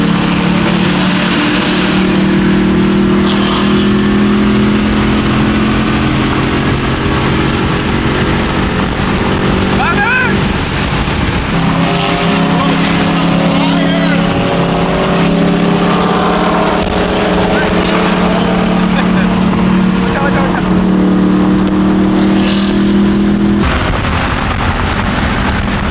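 Loud, sustained BMW M3 E90 exhaust droning and rising through revs up close, with a sharp crackle partway through and voices talking over it.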